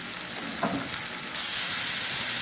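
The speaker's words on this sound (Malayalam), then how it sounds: "എന്നിട്ട് നമ്മൾ ഈ സവാള നല്ല പോലെ ഒന്ന് വഴറ്റിയിട്ടെടുക്കണം." Onions sautéing in a pan make a loud, close sizzle with a brief stirring scrape early on, the hiss swelling a little louder partway through and holding steady; no one talks.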